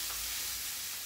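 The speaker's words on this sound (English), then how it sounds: "I'm gonna keep stirring this until the carrot cooks down a little bit" Carrots cooking in a pan for vegan lumpia, a brief soft hiss of sizzling with faint stirring, quiet and close, no talk.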